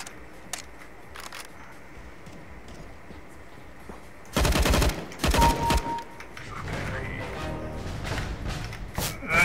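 Gunfire in Counter-Strike: Global Offensive, a few faint isolated shots at first, then loud bursts of rapid automatic fire and scattered shots, with game ambience continuing afterward.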